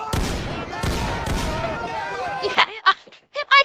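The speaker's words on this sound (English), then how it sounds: "the giant fucking cannon blasts right there" Heavy booming blasts from a giant cannon roll out one after another, loud and reverberant, then die away as a few short bursts of talk and reaction sounds break in.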